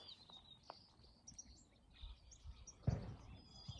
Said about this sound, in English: Like, listen to them. They're just doing their spring thing